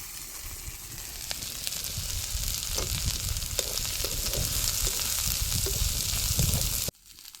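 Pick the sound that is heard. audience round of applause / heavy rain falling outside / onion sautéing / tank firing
onion sautéing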